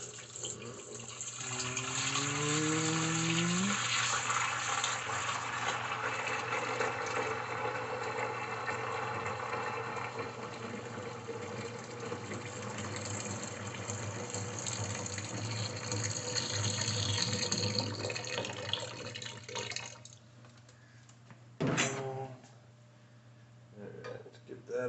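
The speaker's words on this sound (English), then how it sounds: "I'm going to go ahead and pour the rest of this one jug in here." Liquid pours steadily from a jug into a brewing fermenter: a continuous close gushing and splashing that runs for most of the stretch, then stops, followed by a few brief knocks.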